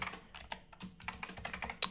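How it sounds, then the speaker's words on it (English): Close, rapid typing on a computer keyboard with a sticking spacebar, a quick run of light clicks ending in one sharper keystroke, no voices. "my spacebar is hanging again. Something is wrong with this keyboard."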